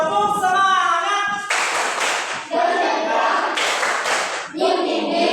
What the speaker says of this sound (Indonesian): Baik, untuk membangkitkan semangat kita Bapak Guru akan memberikan tepuk semangat